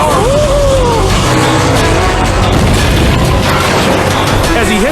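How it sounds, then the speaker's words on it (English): A race car skids out of the groove, loses control and slams into a fence, its fuel tank ruptured by a post; a loud, dense roar of engine and impact noise with whining tones runs throughout. "When his wheels slip out of the groove, he loses control."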